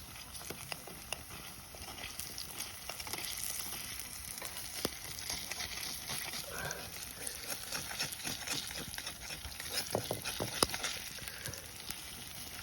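Onion pakoras frying in oil in a pan, a continuous crackling sizzle with dense popping bursts, close and steady throughout with no voices.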